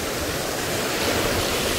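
Dangerous, fast-flowing water rushes in a dense, unbroken roar, loud and close, with no voices over it.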